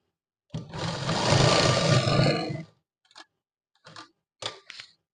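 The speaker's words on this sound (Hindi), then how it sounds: "इस साइड भी एक पैर की सिलाई लगानी है आपको इस तरीके से" A sewing machine stitches the leg seam of a shalwar in one loud, steady run of about two seconds, then gives a few short stuttering bursts with quiet gaps between them.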